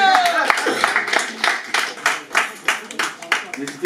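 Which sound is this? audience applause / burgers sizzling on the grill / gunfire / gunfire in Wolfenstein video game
audience applause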